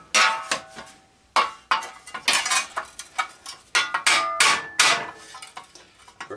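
Hammer blows drive a cold chisel against a steel push mower flywheel, a dozen or so sharp metallic strikes in uneven bursts, close and loud with ringing clangs and no talking.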